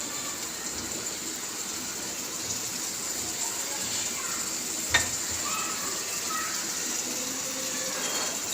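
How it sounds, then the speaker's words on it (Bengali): Garlic paste and mustard paste fry in a pan with a steady, even hiss of oil throughout, broken by a single brief clatter near the middle. "এখন এই রসুন বাটা সরিষা বাটা এটা একটু ভেজে নেব"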